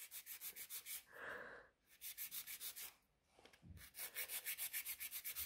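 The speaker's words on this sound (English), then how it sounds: "So I'm filing one side." A nail file rasps against a gel nail extension in short rhythmic back-and-forth strokes, close and fairly faint, with brief pauses between bursts.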